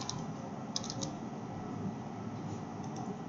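Soft keystrokes on a computer keyboard, a few quick clicks as an address is typed, faint over a low steady room hiss with no talking.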